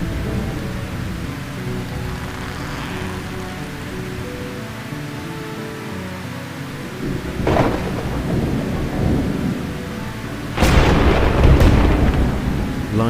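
Storm at sea with heavy rain and rolling thunder: a steady roar of downpour, with a deep rumble building midway and a loud, sharp thunderclap near the end.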